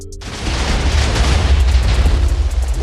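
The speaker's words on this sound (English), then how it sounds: "Oh god, it's a TNT blanket." A TNT blanket detonating in a modded Minecraft game, a loud booming explosion that hits after a short silence and rumbles on continuously, close and heavy.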